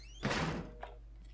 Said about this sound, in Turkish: Şöyle ben kapatayım kapıyı.